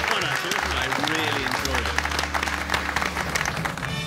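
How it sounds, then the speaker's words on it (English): An audience applauds the Rail Riders model railway team at a televised engineering challenge final, a steady wash of clapping with music and a voice running over it throughout. "Give them a round of applause, guys."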